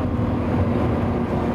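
A Lamborghini Countach engine on the autobahn, a loud, close, continuous low roar heard briefly without any speech.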